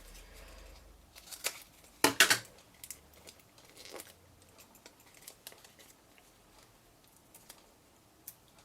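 Scissors snip a dimensional adhesive foam piece in half for a papercraft gift box of tags: a couple of sharp close cuts followed by small quiet taps and rustles of paper handling, no talking.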